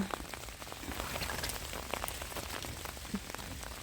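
Steady rain patters down on a surface, a dense continuous spatter with scattered louder drops, no voices.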